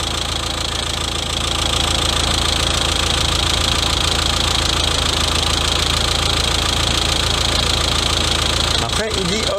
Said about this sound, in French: il dit démarrer le moteur, appuyez sur entrée pour continuer. Donc on a démarré,